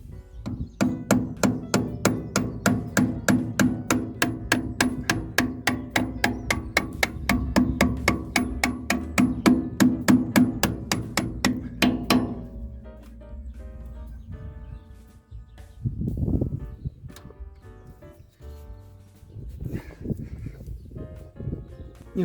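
A hammer strikes a screwdriver rapidly and repeatedly, driving it through the oil filter of a Shifeng SF-244C tractor. The metallic blows ring out loud and close for about twelve seconds, then give way to quieter scraping and a few bumps.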